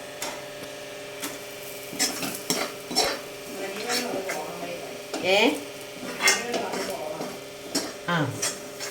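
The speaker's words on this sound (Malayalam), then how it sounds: "എല്ലാം നമുക്ക് ഇനി കോരി എടുക്കാം." Fried onions and other ingredients for Kerala inji curry are scooped out of a cooking pan with a metal spoon, giving irregular scraping and clinking strikes over a faint background sizzle.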